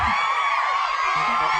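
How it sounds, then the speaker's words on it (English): Crowd cheering sound effect played during a comedic fashion show, a dense, unbroken roar of cheers and whoops that stays loud and even for under two seconds. "Well, sexy crowd cheer."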